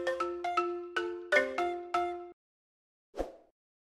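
A phone ringtone plays a short bright chiming melody of several notes, then stops, followed after a pause by a single soft click as the call is answered in a quiet office.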